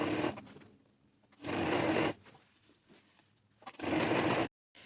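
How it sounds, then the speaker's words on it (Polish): A sewing machine stitches a seam on trousers in three separate bursts of fast, whirring needle clatter, each lasting under a second, with quiet pauses between. "I teraz szywamy na naszej maszynie."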